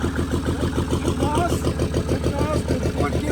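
A Mercedes diesel engine fitted with a budget turbo runs at a steady idle, its rhythmic low chugging pulse close and continuous beneath a voice.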